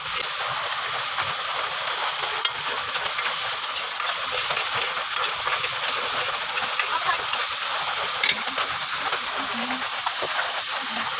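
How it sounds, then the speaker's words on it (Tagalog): Tomato and ginger sauté in a pan with a loud, steady hiss of sizzling oil that fills the whole stretch, close and continuous with no talk. "Gisa na natin yan."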